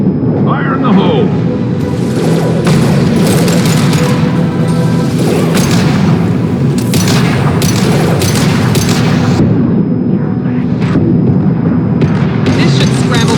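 Deep booming explosions and scattered blasts in the sci-fi shooter Mass Effect 2, loud and sustained with repeated sharp bursts, mixed with game voices and combat noise.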